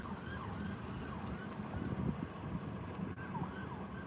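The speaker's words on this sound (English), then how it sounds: "there are cops coming from all directions with lights and sirens going up and down Hampton." Police car sirens wail faintly in the distance on a city street, rising and falling under steady wind noise on the microphone, with no talk.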